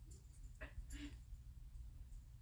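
A dog gives two short, faint whimpers or yips, thin and high, set against a steady low rumbling hum in a quiet indoor room.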